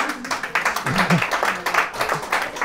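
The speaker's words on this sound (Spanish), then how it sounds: "¿Por qué aplauden?" An audience at a lecture on Freemasonry breaks into steady, dense clapping, fairly loud and close throughout, with a voice speaking over it.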